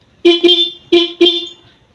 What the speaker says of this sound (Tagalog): Bali ito yung busina ko ng stock.